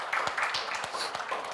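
Church congregation at a Sunday service clapping together, a brief burst of steady hand claps close by with a voice mixed in.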